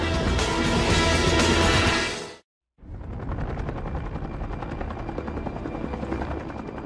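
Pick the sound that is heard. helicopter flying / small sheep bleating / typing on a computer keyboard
helicopter flying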